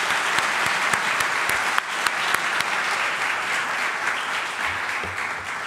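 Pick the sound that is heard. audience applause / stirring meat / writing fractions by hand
audience applause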